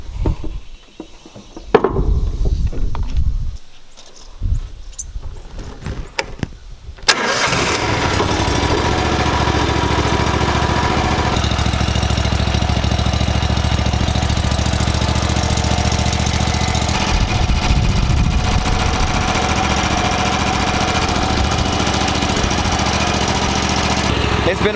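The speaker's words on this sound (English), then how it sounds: "I always want to kick this motor on, get that oil hot." After some handling noises, a boat outboard motor starts and settles into a steady, rough idle that runs on evenly, close by and fairly loud.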